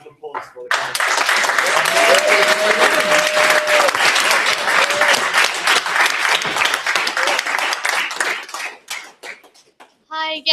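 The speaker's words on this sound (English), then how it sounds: "We have a round of applause for the candidates." An audience at a young people's question time event in Surrey Heath applauds the candidates, a sustained burst of clapping that fades out after several seconds, with a voice and a few cheers mixed in.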